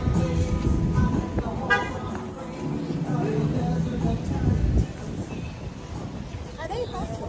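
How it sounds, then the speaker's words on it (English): Car horns honk amid rumbling traffic while people talk nearby inside a vehicle. "Are they honking at us?"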